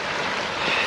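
A distant airplane engine roars steadily on an island, a broadband whoosh spread evenly through the short stretch with no talk over it.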